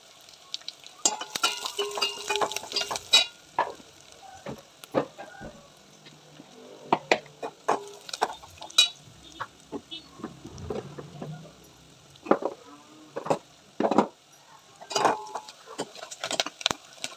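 Curry leaves fry in hot oil in a pan, giving a faint crackling sizzle broken by sharp clicks and scrapes of a spoon stirring, close and intermittent throughout, with a voice speaking briefly in between.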